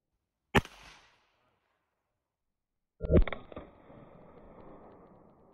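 A .22 Long Rifle round is fired at a metal plate: a sharp, loud crack, then silence, then a second burst of impact with ringing metallic clatter that fades into a lingering rattle.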